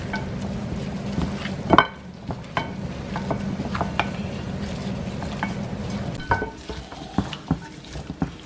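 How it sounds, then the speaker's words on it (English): Hands knead seasoning into raw pork ribs for deep-frying, giving wet squelching and stirring sounds with a few sharper knocks against a bowl, close and continuous, no talk. "I'm massaging my pork rib for 5 minutes"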